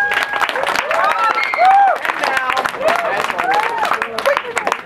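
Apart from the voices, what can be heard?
audience applause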